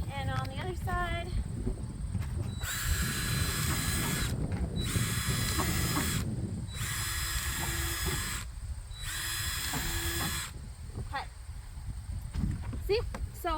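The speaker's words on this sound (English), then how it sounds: "make some ventilation holes on the side" Power drill boring ventilation holes in the side of a plastic worm farm bin, with four loud whining bursts of several seconds each and short pauses between them, up close.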